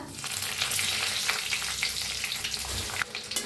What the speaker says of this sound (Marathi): हलवून भाजून घेऊया।